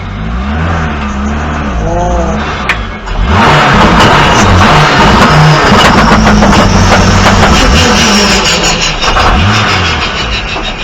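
A Mk3 Toyota MR2 with a 4-inch turbo-back exhaust, loud and close, idling and then revving hard with rising and falling engine notes and turbo whoosh, continuous throughout.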